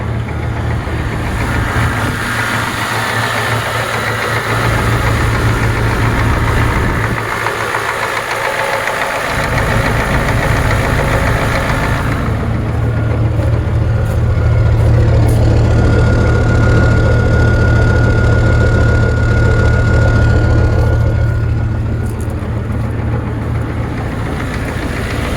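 A 1994 Ford F350 pickup with a 7.3 IDI diesel idles steadily nearby. Its low, even rumble continues throughout with a faint knocking quality, and no voices are heard.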